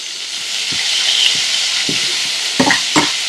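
Chopped tomato and browned onions fry in a pan while being stirred, with a continuous bright sizzle and hiss broken by several scraping stir strokes, close and fairly loud.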